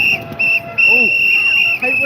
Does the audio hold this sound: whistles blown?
yes